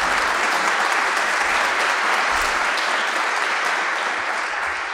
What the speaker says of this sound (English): If you could please give a round of applause for Mr.